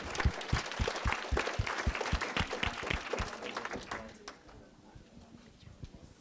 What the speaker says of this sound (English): give yourselves a round of applause for sticking with it